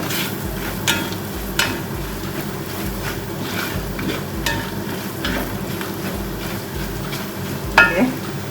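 Spoon stirring coarsely ground black pepper into a fish rice mixture in a pan, with a steady scraping and frying hiss and a few sharp clinks of the utensil against the pot.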